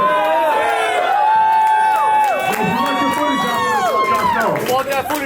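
A crowd at a nighttime dance showdown finals event cheers, whoops and shouts continuously, loud and dense throughout, with music-like tonal voices layered over the roar.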